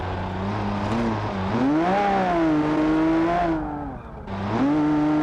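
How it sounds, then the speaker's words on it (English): A rally car in City Streets Rally Italia throws a handbrake turn, its engine droning loudly with rising and falling revs and a brief dip as the throttle lifts, then picking back up. "Using the handbrake here."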